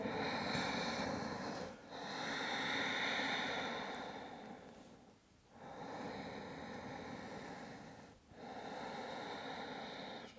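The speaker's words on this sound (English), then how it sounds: "We take 2 breaths here." Slow, deep breaths during child's pose in a yoga session come as long, soft, airy inhales and exhales in a steady rhythm, close and quiet with no talking.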